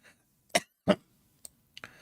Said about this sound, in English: That's just a cough.